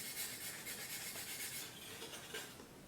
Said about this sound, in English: It just takes a little longer to sand with this sanding block than it does with the other one.